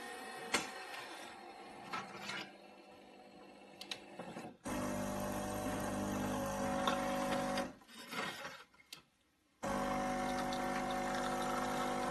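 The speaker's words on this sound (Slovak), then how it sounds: "Káva tečie veľmi rýchlo." A Saeco Royal espresso machine pumps and dispenses coffee in loud steady bursts, broken by short pauses, a mechanical whirring hum with liquid running through and no voices.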